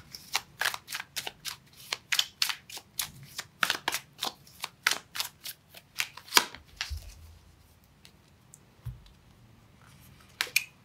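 Crisp riffling bursts of a card deck being shuffled, repeated in a quick steady rhythm for several seconds, then a pause and a final snap.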